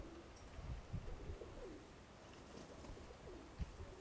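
Pigeons coo in low, soft repeated calls outdoors, faint and somewhat distant, with a few light knocks and rustles amid the steady background hiss.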